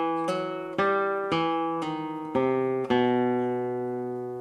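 Classical guitar plays a Granadinas passage of six plucked notes with slurs and pull-offs, each ringing with clear sustain, close and solo without talk.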